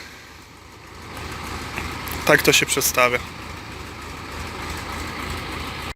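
A low, steady tractor engine idles throughout, with a person speaking briefly over it midway.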